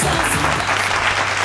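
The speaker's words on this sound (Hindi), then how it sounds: "शिवांश के लिए जोरदार तालियां।" Loud, dense applause from a large audience at a televised dance competition show, steady and full throughout.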